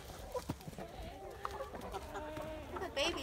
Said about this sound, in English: Yay, there's another chicken going in